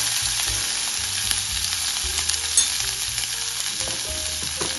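A Marathi-style tempering of spices crackles in hot oil for a corn dish, a steady close sizzle with faint spluttering pops throughout and no voices.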